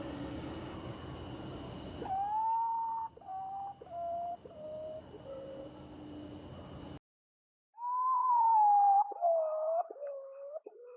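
Repeated hooting and whistling calls from a bird played back through speakers, descending tonal notes in short phrases, broken by a brief silence before a louder, wavering call with a series of stepped notes.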